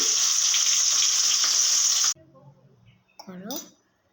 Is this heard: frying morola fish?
yes